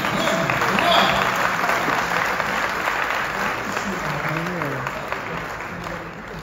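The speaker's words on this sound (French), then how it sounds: "Tu peux l'applaudir?" Audience applause fills a conference hall in Le Pré-Saint-Gervais as a La Poste territorial delegate is welcomed on stage, a steady dense clapping that holds for several seconds, with voices faintly mixed in.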